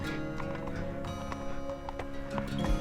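Hooves clip-clop at an even pace on a hard surface as a horse is ridden in Georgia, with steady rumbling noise underneath.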